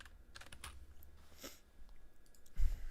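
Faint typing on a computer keyboard, scattered quick clicks and taps at low level, ending in a louder thump near the end.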